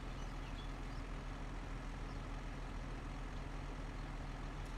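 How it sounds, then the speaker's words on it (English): Tractor engine in the video game Farming Simulator 25, a steady low mechanical drone with a constant hum running evenly and loudly throughout, no talk over it. "Here, the tractor sounds are more realistic."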